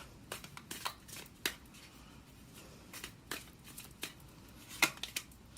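Tarot cards being shuffled and drawn, a series of soft, crisp riffles and flicks spaced irregularly, quiet and close with no talking.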